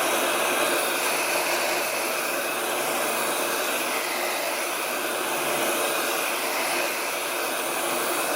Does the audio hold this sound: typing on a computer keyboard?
no